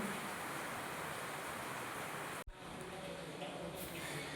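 Monsoon rain in Shravan, a heavy, even rush that cuts off sharply midway and then continues more faintly, with no speech.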